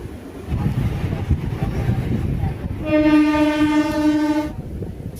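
A local train running on the line from Bardhaman toward Deoghar, rumbling steadily on the rails before a long, loud horn blast sounds for about a second and a half, then the rolling noise continues.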